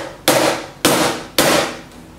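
Three sharp hand strikes on a wooden cajon box drum, evenly spaced, each a loud close slap that decays quickly.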